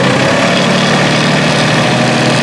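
A New Holland Workmaster 25 tractor engine runs steadily after warming up, a loud, close, continuous diesel drone with even low rumble throughout and no voices.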